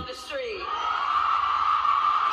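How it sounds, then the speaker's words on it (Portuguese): A crowd at a political event with Kamala Harris roars and whoops euphorically, a sustained loud swell of massed cheering voices that builds after an early shout and holds steady to the end. "Olha, o povo gritando, eufórico"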